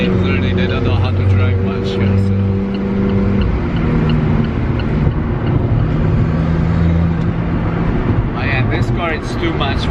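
A 2018 Alfa Romeo 4C sports car drives along, its loud engine droning and rising in pitch with revving through the gears, with people talking over it throughout.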